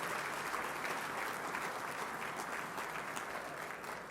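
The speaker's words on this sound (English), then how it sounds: "let's have a big round of applause for the waiters and waitresses and the people who prepared" Guests at a fundraising dinner applaud the waiters, waitresses and cooks, a continuous wash of many hands clapping at moderate volume from a large room, with no speech over it.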